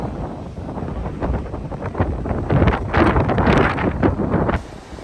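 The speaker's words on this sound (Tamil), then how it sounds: "எப்போவுமே இப்படி தான் காற்று அடிச்சுட்டே இருக்கும்" Strong wind at the Cape of Good Hope buffets the microphone in loud, gusting rushes that swell and peak toward the end before dropping off abruptly, with no voices.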